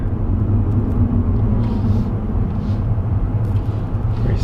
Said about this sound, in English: I was kind of looking for an excuse to drive the Tesla somewhere